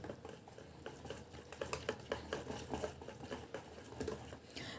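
Rava batter mixed with a spoonful of baking soda gets stirred in a bowl, giving soft, faint, rhythmic wet scraping and patting strokes that repeat steadily throughout, with no voices.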